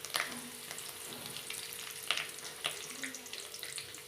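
Curry leaves and mustard seeds sizzling in hot oil in a kadai, a continuous close frying hiss with sharp pops and crackles scattered throughout.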